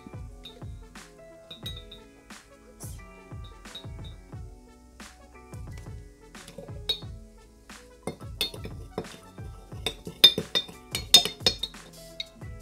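A spoon stirs baking soda into water in a container, clinking against its sides in steady repeated taps that grow brighter and busier toward the end, close up with no one speaking.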